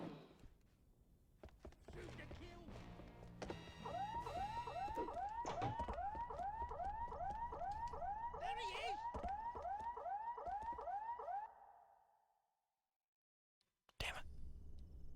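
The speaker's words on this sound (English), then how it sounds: "Sound the alarm!" A repeating wailing alarm siren in the PS2 spy shooter Agent Under Fire sounds loud and steady in rapid rising cycles for several seconds over low background, then cuts out into silence before a brief burst of game sound.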